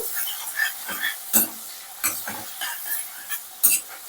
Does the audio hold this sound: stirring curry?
yes